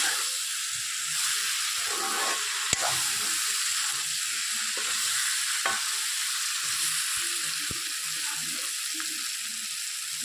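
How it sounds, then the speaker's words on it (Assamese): Cumin and coriander powder fry in a pan with a continuous soft sizzle and hiss, broken by scattered clicks and scrapes as a utensil stirs the spices. "এইখিনিতে মই কম স্পীডত ভাজিব দিম।"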